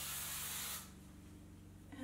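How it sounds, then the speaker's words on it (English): A single sustained burst of hairspray, a bright close hiss lasting under a second, then quiet room tone. "I'm gonna spray this side"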